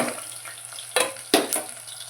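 Spices and onions frying in hot oil for a tempering, a steady sizzle broken by two or three sharp spatula scrapes and clinks against the pan, close and fairly loud, with no voices.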